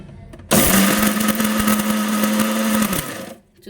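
A kitchen mixer grinder whirs loudly for about two and a half seconds, grinding ridge gourd peel chutney with a steady motor drone that starts abruptly and winds down at the end.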